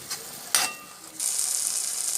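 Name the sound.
tomatoes sautéing in oil for sundakkai kulambu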